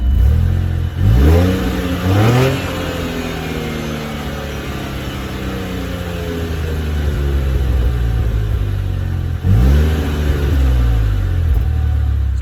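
A Saab XWD engine with a new stainless downpipe revs up sharply twice, once near the start and again near the end, with a steady throaty exhaust rumble idling in between.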